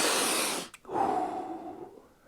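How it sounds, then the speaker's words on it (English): A person taking a sharp sniff at a painted Saurus Scar Veteran on Aggrodon miniature, a short breathy inhale that breaks off, followed by a longer drawn-out breath, close and fairly loud with no talking. "Let's give it a sniff test."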